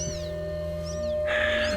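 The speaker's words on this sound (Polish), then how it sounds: "To są małe kocięta w siatce." Small kittens trapped in a net bag give high, thin meows, a couple of rising cries followed by a louder squeal, close by over a steady hum.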